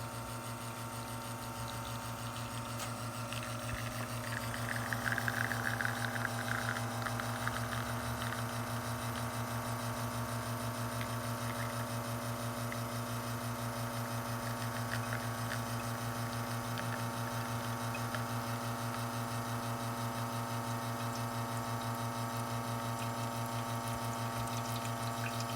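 An Izzo Alex Duetto espresso machine in plumbed-in mode pumps water to pull a shot, a steady low humming drone with a faint watery hiss that swells slightly early on and then holds evenly.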